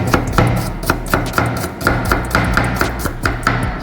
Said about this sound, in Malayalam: സവോള അല്ല ചെറുള്ളി നമുക്ക് കട്ട് ചെയ്തെടുക്കാം.